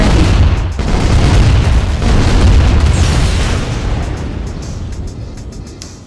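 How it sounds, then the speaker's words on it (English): A video game airstrike sets off a loud, sustained rumbling explosion that roars for several seconds and then slowly trails off. "Airstrike."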